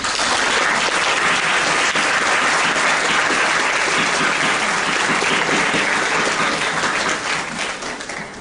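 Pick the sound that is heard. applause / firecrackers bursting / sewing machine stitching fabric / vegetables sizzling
applause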